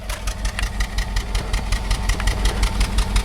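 Rough-running Toyota engine idling with a misfiring cylinder, a steady uneven low chug pulsing with periodic irregular knocks, close and fairly loud with no voices.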